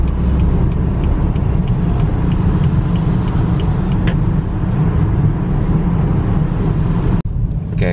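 Steady engine rumble and road noise from cars stuck in a traffic jam on a foggy road, a dense continuous low drone close by with a sharp click near the end.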